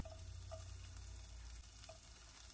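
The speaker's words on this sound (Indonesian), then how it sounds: "Ini aku tumis dulu bawang merah dan bawang putih." Shallots and garlic sautéing in oil in a pan for a home-style Indonesian dish, a steady close sizzle and crackle of frying running throughout with faint stirring clinks.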